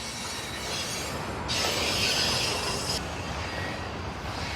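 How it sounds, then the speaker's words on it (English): A train rumbles past close by on tracks near a harbor, a steady loud mechanical roar with a brighter hissing, grinding stretch in the middle. "train is going across the tracks right in front of us"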